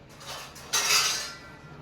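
Dishes and plates clink and clatter as they are put away in a home kitchen, with a few close, short bursts of ceramic knocking and no talking.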